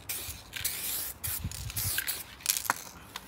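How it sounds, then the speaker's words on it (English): A spray gun lays clear coat on a car in a series of hissing bursts, each a second or less with short gaps, heard up close without speech. "There's the clear coat."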